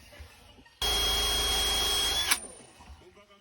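A single electric drill whirs steadily at high speed for about a second and a half, spinning a 70-amp Sierra Cosworth alternator on a bench test, then cuts off abruptly, with faint background noise before and after.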